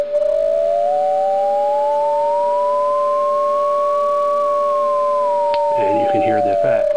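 A function generator sweeps a tone through a diode mixer circuit, giving a steady electronic whine that glides up, holds, then slides back down beside a fixed tone, with a burst of crackly noise near the end.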